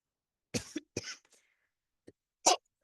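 A few sharp, close coughs in quick succession, followed by a short pause and one more cough after near silence.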